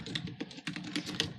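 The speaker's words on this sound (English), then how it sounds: "let me put this down so I can type that" Quick, fairly quiet keystrokes on a computer keyboard, tapped in a fast, slightly uneven rhythm.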